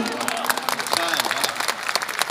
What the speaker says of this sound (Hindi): तालियां थोड़ी सी कम है